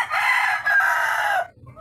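A rooster crows once in a long, loud, drawn-out call on a Philippine farm after rain, alone with no talk, fading to quiet at the end.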